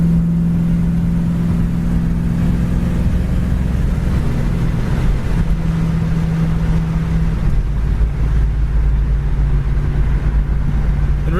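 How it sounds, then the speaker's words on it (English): Steady engine drone and road rumble from inside a 1965 Ford Mustang fastback on a windy day, a continuous low hum with slight shifts in pitch as it cruises along. "Car runs and drives excellent down the road."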